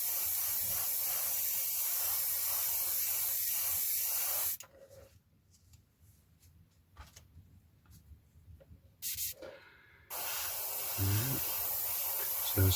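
Airbrush or spray can spraying primer onto small 1/48 scale F-104J Starfighter model parts, a steady close hiss that cuts out for several seconds, then resumes loud and continuous.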